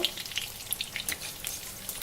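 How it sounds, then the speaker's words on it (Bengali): Puffed-rice kalojam sweet balls sizzle steadily in hot oil in a pan, a close, crackling fry with small pops scattered throughout and no talking. "তেল গরম হয়ে গেছে। এবার আমি ওগুলো ফ্রাই করে নেব"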